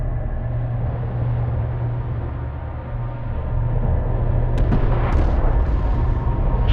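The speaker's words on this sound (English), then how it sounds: "One of our turrets is taking fire." Sustained distant battle rumble and artillery-like gunfire in the real-time strategy game Homeworld: Deserts of Kharak as a turret comes under attack, a steady low roar building slightly louder toward the end with a few sharp cracks.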